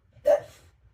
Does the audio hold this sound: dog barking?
yes